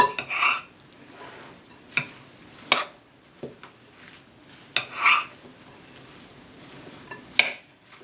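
A spoon knocks and scrapes around a bowl as eggs are mixed into a cauliflower and ham patty mixture, giving about eight separate clinks and scrapes spaced irregularly with quiet gaps between them.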